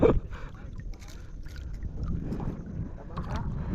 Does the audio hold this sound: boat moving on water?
yes